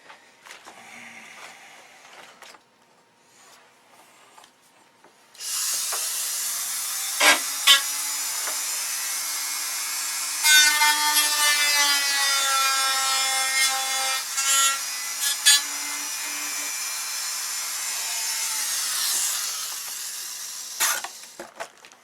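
Wood being cut and rasped away from a model aircraft bulkhead to clear a pushrod, a steady loud sawing and rubbing texture with short scraping strokes, starting after a quiet opening and running continuously without talk.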